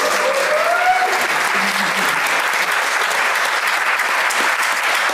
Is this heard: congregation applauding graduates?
yes